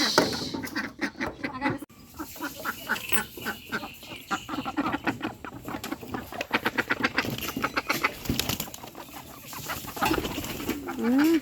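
Pigeons coo and birds flutter nearby, with rapid bursts of wing flapping and scattered clucking sounds.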